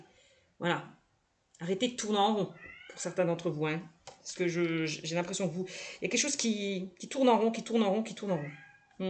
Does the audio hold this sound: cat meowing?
yes